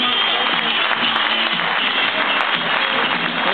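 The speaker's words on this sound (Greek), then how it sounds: "και ένα πολύ μεγάλο χειροκρότημα." Audience applause at a cultural association's theatre performance, a sustained dense wash of clapping from a crowd, loud and close, continuing steadily throughout.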